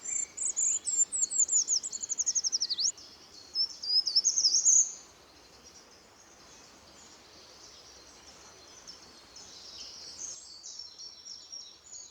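A short-toed treecreeper sings high, thin, repeated phrases for about five seconds, then falls silent, leaving a quiet outdoor background with faint insect chirring and a softer distant call near the end.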